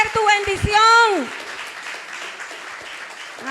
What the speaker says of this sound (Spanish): Si lo crees, dale un fuerte aplauso al Señor.